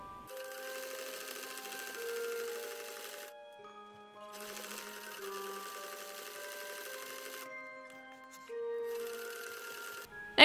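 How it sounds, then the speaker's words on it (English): A sewing machine stitches fabric pieces for a Christmas stocking with a half-inch seam, running in three rapid whirring bursts separated by short pauses. "you will sew this together with a 1/2 inch seam allowance"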